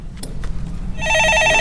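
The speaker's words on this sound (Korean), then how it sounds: "예, 전화 받아보겠습니다." A telephone starts ringing about a second in, a bright, loud electronic trill that follows a short stretch of soft rustling and a couple of light knocks.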